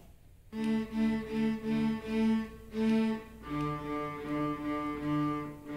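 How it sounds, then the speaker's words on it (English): Cello open strings bowed one after another, sustained low tones with rich harmonics in a steady sequence of separate strokes, close and clear with no talking. "The open strings on the cello sound like this."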